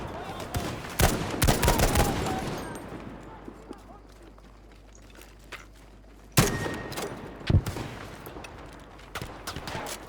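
Gunfire in the World War II shooter Battlefield V: sharp, loud shots crack out in scattered bursts over a busy battle din, with voices talking throughout.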